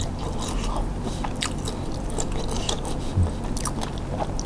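Someone bites and chews a cold, spicy Thai yam salad up close. Wet, crunchy mouth sounds repeat in an irregular rhythm throughout, with no talking.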